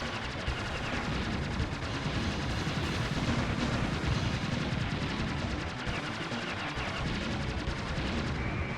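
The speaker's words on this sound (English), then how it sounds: "we're bombing this battleship, all right" Continuous dense barrage of bombing explosions and rapid gunfire as a battleship is attacked in the arcade shoot-'em-up Aero Fighters, loud and steady throughout with no pauses.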